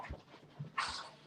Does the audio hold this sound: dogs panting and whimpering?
yes